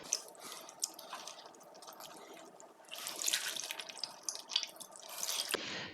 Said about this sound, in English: So this is the third and the last time that I'm going to put the cabbages in clean water to shake off the salt.